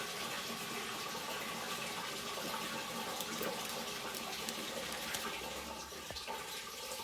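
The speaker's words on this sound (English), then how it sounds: "There's the water from upstairs." Water from hand washing upstairs rushing down through a household drain pipe, a faint continuous gushing hiss with small irregular gurgles and knocks.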